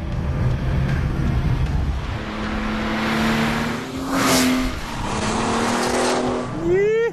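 A Porsche 911 Turbo accelerates hard, its engine note climbing and sweeping through the gears with a loud roar and a whoosh near the middle, heard close up, with a voice speaking over part of it.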